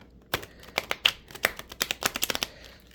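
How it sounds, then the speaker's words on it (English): A tarot deck printed on thin cardstock being shuffled by hand, a quick run of crisp riffling card slaps and flicks close to the mic, irregular at first and then tightening into a rapid burst. "I've tried shuffling them the opposite direction, and that's even harder."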